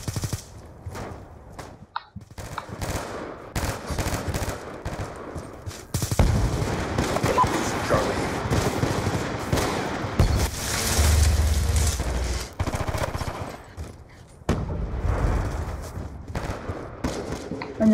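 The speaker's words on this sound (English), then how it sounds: "I hear a lot of people firing" Gunfire in Call of Duty: Black Ops 2 comes as dense bursts of automatic fire and scattered shots, loud and nearly continuous across the stretch with short gaps between volleys.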